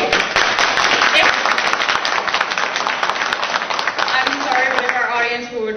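A crowd at a mayoral debate applauds loudly and steadily, the clapping fading as a voice begins speaking near the end.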